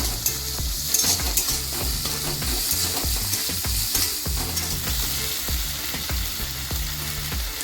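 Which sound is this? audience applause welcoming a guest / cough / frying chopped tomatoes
frying chopped tomatoes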